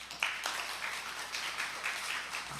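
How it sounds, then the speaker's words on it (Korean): Faint, scattered clapping comes from a church audience welcoming a homeschooling school director to the stage. Sharp individual claps stand out briefly, with no talking. "우리 플랜 B 스쿨 우리 이시선 원장님 나오실 때 우리 박수로"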